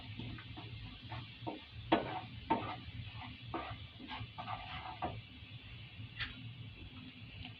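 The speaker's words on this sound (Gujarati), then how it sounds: "એક મિનિટ જેટલું આપણે આ લસણને સાંતળી લઈશું." Garlic sautés in a pan, giving a soft, steady sizzle under a series of light scraping and clinking stirs from a spoon.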